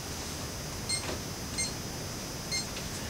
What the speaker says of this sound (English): We set our timer.